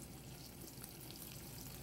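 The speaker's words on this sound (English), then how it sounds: "Make sure we get a little bit of sizzle." Scallops sizzle in a little oil in a hot pan, giving a steady, soft crackling hiss throughout with no talking.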